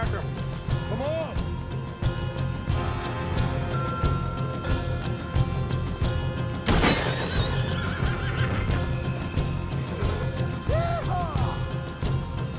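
Horses neighing and hooves clattering in the Red Dead Redemption 2 game, several whinnies over a busy mix of galloping, music and a sharp crash midway, with voices talking throughout.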